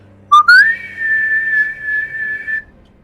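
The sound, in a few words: loud piercing whistle, imitating a druid's whistle in a D&D game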